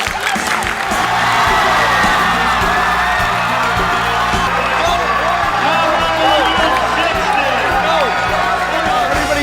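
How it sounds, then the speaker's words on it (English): A student section crowd at a game cheers, screams and chants continuously, a loud dense roar of many voices with rhythmic chanting throughout. "the entire student section was chanting, "Keep us open," and we just kept screaming it the entire time"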